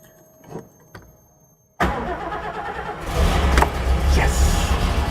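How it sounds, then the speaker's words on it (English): A Mercedes-Benz 300 SL classic car engine cranks over briefly after a couple of faint clicks, then catches and roars into a loud, steady run. "You only do that while you're literally cranking the engine, and then it should go."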